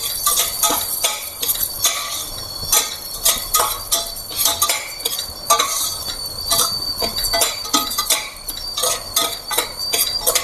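Broken wheat roasts in ghee in a pan while a metal spoon stirs and scrapes it, giving rhythmic clinks and scrapes over a soft background sizzle, close and continuous.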